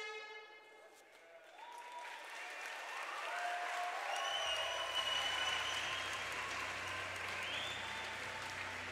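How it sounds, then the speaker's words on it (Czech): An audience applauds young K-1 kickboxing fighters, aged eight and nine, after their bout; the clapping swells from quiet into a full, sustained round that fills the hall and continues steadily. "Prosím ještě jednou potlesk pro 8letého Martina Kodítka v červeném rohu a 9letého Ondřeje Linharta"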